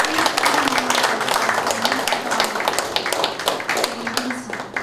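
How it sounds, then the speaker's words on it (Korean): Audience applause at a special olympics taekwondo general assembly meeting in East Asia, dense steady clapping from a crowd indoors throughout, with a low murmur of voices underneath. "회장님을 박수로 환영하겠습니다."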